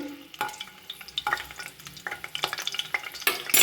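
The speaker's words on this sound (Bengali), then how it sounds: "আমি বেরেস্তার পেঁয়াজগুলোকে আমি ভেজে নিচ্ছি।" Onions being fried in hot oil for beresta (crisp fried onions) in a home kitchen, with a steady sizzle punctuated by repeated stirring scrapes and clatters, close and moderately loud, no talking.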